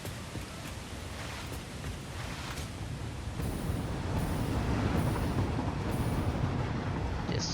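A train from the factory-building game Satisfactory rolls past with a steady, dense rumble and hiss of rail noise that grows slightly louder partway through, with no talking over it.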